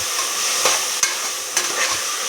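Tomatoes sautéing in a hot pan give a steady, loud sizzle, broken by a few sharp stirring knocks of a utensil against the pan.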